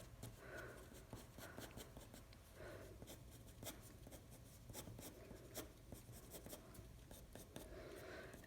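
A pencil sketches a cat on paper, giving soft, repeated scratchy strokes in short bursts over a low steady hum, close and fairly quiet.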